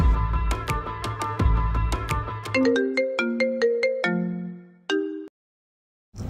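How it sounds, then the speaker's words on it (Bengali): Melodic phone ringtone of an outgoing call, loud and close, a rhythmic series of bright electronic tones in descending steps that stops abruptly near the end, with no talk over it. "ভাই এই যে ফোন দিছি দবেন দে দে ফোনটা দে"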